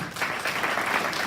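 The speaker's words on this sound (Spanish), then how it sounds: "Por eso denle un aplauso al Señor." A church congregation claps for the Lord during a Spanish-language sermon, a dense even patter of many hands that holds steady at moderate volume throughout.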